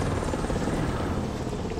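A helicopter's rotor and engine drone in War Thunder gameplay, a loud, continuous whirring roar with a steady rumbling pulse and no speech over it.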